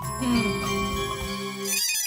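A mobile phone rings in a Hindi TV comedy household scene, giving a short, bright melodic ringtone of a few tinkling tones that plays clearly for about two seconds.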